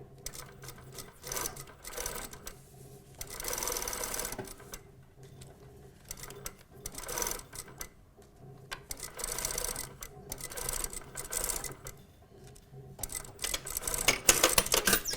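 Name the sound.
sewing machine stitching and back tacking a pocket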